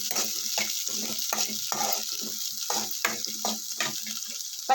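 Ginger pieces frying in a pan with oil, a steady sizzle broken by regular scraping strokes of a stirring spoon, close and moderately loud with no voices.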